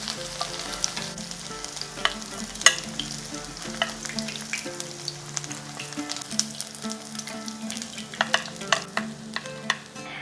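Rohu fish fries steadily in hot oil in a pan over a medium flame, a dense, continuous sizzle with scattered crackles and pops, close by and without voices.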